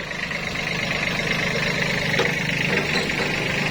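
A Kubota B-40 14 hp four-wheel-drive tractor imported from Japan idles with a steady, even mid-pitched engine drone, close and constant, heard alone with no talk.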